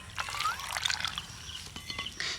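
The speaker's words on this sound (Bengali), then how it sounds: "সেই বাটিরই হাফ বাটি নিয়েছি জল জলটা দিয়ে দিচ্ছি" Water is poured into a bowl of flattened rice, giving a faint trickling, splashing pour with small clinks, close and fairly quiet.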